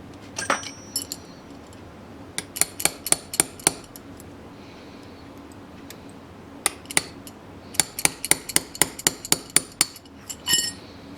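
Sharp metallic taps from a small hammer drifting a pin out of an Anschutz 64 rifle, coming in quick rhythmic bursts of ringing strikes separated by pauses, close and clear.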